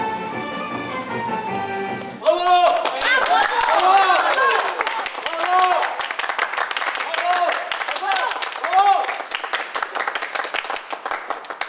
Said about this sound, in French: Cette tempête d'applaudissements vous est dédiée, madame